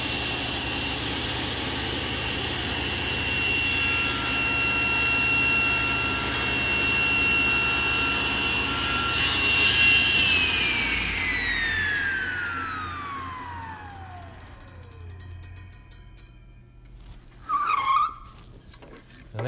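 A power saw spins up and cuts a miter in wood, a loud sustained high whine that holds steady, then winds down in a long falling pitch as the blade stops, with a short clunk afterward.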